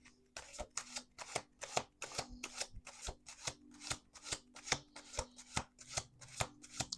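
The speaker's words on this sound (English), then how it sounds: "Let's do 1 more shuffle." Tarot cards being shuffled on a table, a quick regular series of about twenty crisp riffling flutters, close and fairly soft, with no talking.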